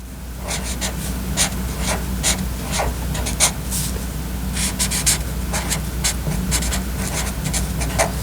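A pen or marker writes a Happy Mother's Day message by hand on a homemade card, with close, scratchy strokes in irregular bursts over a low steady background hum.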